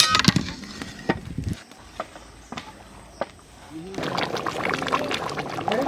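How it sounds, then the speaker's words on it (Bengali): Water pours into a large pot of goat meat curry cooked outdoors in a village, a steady loud gush starting after a few sharp clanks and scrapes of utensils. "তাহলে একটু জল দিয়ে দিই না"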